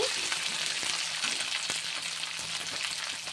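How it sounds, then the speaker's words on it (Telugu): Peanuts, ivy gourd, chana dal and cumin frying in a pan give a steady close sizzle with occasional stirring scrapes, no voices. "పల్లి, దొండకాయ, పచ్చిశనగపప్పు, జీలకర్ర బాగా ఫ్రై అవ్వాలండి."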